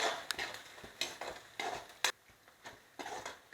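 Chopped onions are sautéed in a pan for spinach rice. A spatula scrapes and clinks against the pan in short, irregular strokes, with only a faint sizzle underneath, and the whole thing stays fairly quiet.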